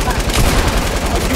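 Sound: LMG machine gun fire in the video game Fortnite

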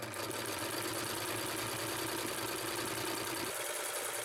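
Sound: Singer sewing machine stitching with blind stitch attachment

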